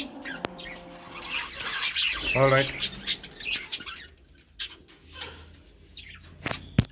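Caged lovebirds give short chirps and calls with some wing flutter, fairly near, mixed with someone speaking over them.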